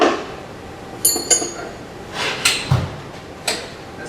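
Metal tool drawers in a machine shop are pulled open and pushed shut, several sharp clacks and rattling slides with faint clinks of tooling, close by.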